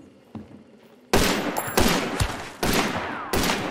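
Gunfire in the video game Hunt: Showdown: a faint shot early on, then several loud, close shots with a ringing tail, arriving roughly every second.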